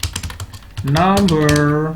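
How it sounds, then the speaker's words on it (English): Quick keystrokes clatter on a computer keyboard while a WordPress contact form is filled in, a short run of light, close clicks. A voice then speaks over the last few taps. "I'm just typing here"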